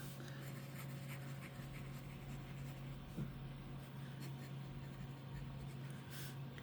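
A fountain pen loaded with Timber Frame ink writes on plain copy paper, a soft, faint scratching nib sound, close and quiet over a low steady background hum.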